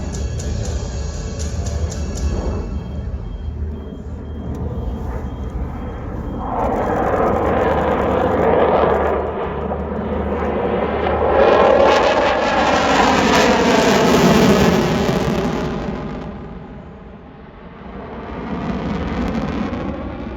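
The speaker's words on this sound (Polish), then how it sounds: "czyli tak zwany loaded roll, nazywany również podniebnym tańcem naszego samolotu" A propeller-driven aerobatic airplane flies a loaded roll at an air show in Leszno; its engine drones steadily and swells louder and rougher as it passes near, then fades slightly before rising again.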